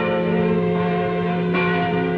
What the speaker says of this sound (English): the bells were ringing.